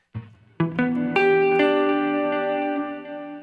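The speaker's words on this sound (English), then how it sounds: "you can turn up the reverb a little bit so we can get some more sense of that" Electric guitar notes are plucked one after another and ring out together, trailing into a long wash of echoing delay and reverb with no talking.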